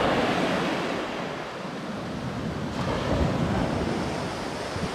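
Surf swells and breaks along the shore at Playa Bonita beach in Costa Rica, a loud, continuous wash of waves mixed with gusty wind buffeting the microphone, with no voices.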